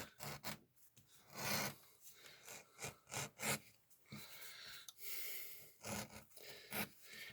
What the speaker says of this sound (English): we're just going to bevel the edges here real quick